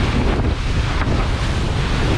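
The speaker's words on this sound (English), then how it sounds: "we take off, launch off the waves and come slamming down" A catamaran bashes through steep waves in a Sea of Cortez norther, with loud continuous wind roar and rushing surf dominating throughout, and a deeper thump near the middle as the hull comes down.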